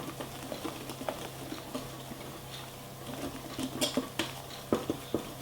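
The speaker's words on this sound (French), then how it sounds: "Hop, on mélange. Et ça fait une très jolie pâte." Coconut cake batter being mixed in a bowl, with soft scraping, patter and light clinks of a utensil against the dish, close and quiet with no talking.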